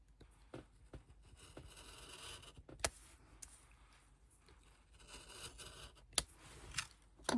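Scissors cut into a paper card for scrapbooking, a quiet close-up series of soft snips and scrapes with a few sharper clicks.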